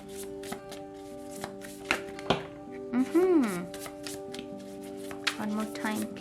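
Tarot cards being shuffled by hand: a string of quick papery flicks and taps at close range, with someone speaking over them in places.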